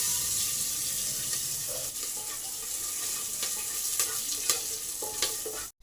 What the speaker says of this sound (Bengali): রসুনগুলো আমার ভালোভাবে ভাজা হয়ে গেছে।